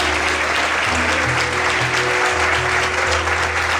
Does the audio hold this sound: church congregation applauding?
yes